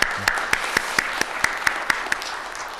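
A church congregation applauds the music committee during a Sunday dawn worship service, a steady wash of clapping with sharper rhythmic claps standing out, sustained and fairly close throughout.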